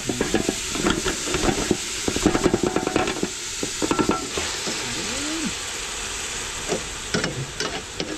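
Plenty of ground meat frying in a pan, with steady sizzling and irregular stirring scrapes and clatters of a utensil at close range, and no speech.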